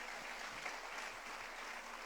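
A church congregation claps for Christ during a sermon, with a quiet, distant, steady patter of applause throughout and a low hum underneath.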